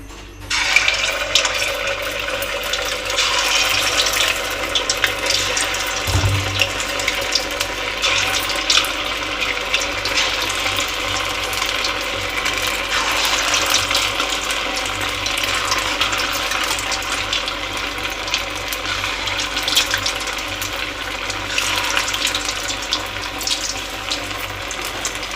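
Batter sizzling in hot oil in a home kitchen, a continuous crackling hiss that stays loud and even throughout, with a brief low thump early on.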